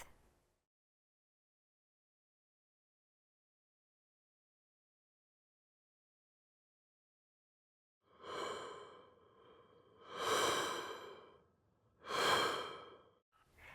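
An AI-generated breath sound effect made in VARCO Sound, heard as three soft, airy exhalations that follow a long silence, each rising and fading in turn.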